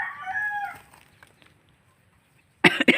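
A chicken gives a drawn-out call that trails off, then after a quiet pause breaks into a few loud, sharp clucks close by.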